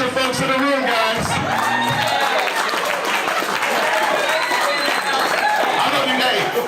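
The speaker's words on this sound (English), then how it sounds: "Round of applause for the wiser folks in the room, guys." Loud applause and cheering from an audience at a caucus meeting, honouring the wiser folks in the room, with whoops and a voice at the start over a dense, continuous roar of clapping.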